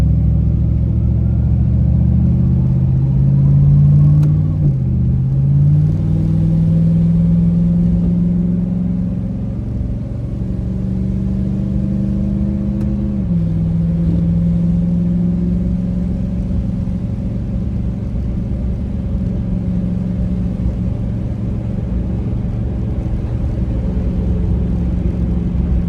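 A car with a swapped differential cruises on the road at highway speed, giving a loud, steady low engine drone and road rumble with slight shifts in pitch as it accelerates, with no talking.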